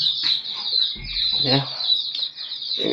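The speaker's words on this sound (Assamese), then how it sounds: "মুৰ্গী যে 8টা দিছিলোঁ, তাৰে মোটামুটি আপোনাৰ 6টা আছে বৰ্তমান, ভালে আছে।" Chickens raised at home cluck and chatter close by in short, uneven bursts under a high steady whine, and a voice speaks briefly in the middle.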